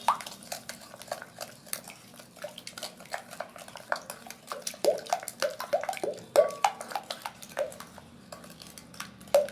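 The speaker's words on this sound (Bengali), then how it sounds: "চিনি, পাউডার মিল্ক, সব উপকরণ একসঙ্গে মিক্সড করে নেব।" Sugar, milk powder and other ingredients for soft bread mixed in a bowl, a steady run of quick spoon clicks and scrapes against the bowl with a few louder knocks, close and with no talking.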